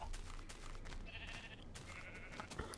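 Sheep in a Minecraft village, played with the Technic modpack, give a couple of faint, thin bleats over low background hiss and soft clicks, with no speech.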